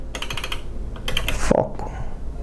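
Quick bursts of typing on a computer keyboard, short runs of crisp clicks close by, a pause, then another run, with a brief voice sound in between.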